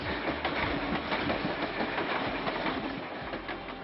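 A train at the new Talaimannar railway station in northern Sri Lanka rumbles steadily with a dense rolling clatter, loud and continuous, fading slightly toward the end.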